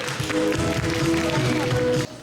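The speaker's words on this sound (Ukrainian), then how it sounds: "Наші оплески!" An audience claps at a children's talent show, with steady dense applause over a tone of background music that cuts off abruptly near the end.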